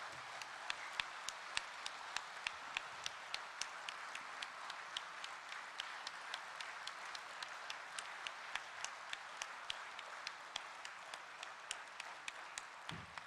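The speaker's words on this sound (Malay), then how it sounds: "Saya minta anggota-anggota Perkhidmatan Awam untuk sama-sama berdiri dan memberi satu tepukan kepada" Audience in the Sarawak civil service hall stands and claps for their retired former boss, a steady sustained round of many hands with sharp individual claps standing out, no talk over it.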